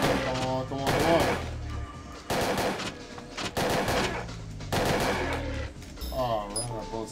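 M4A1 rifle fire in Parasite Eve 2, several separate loud bursts of shots broken by short pauses, with game music and effects between them.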